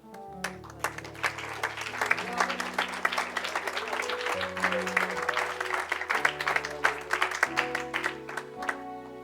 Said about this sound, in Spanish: regálenle unos aplausos